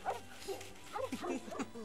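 A dog in the LEGO Pirates of the Caribbean video game whimpers and yips, several short, rising whines in quick succession, faint and heard on their own.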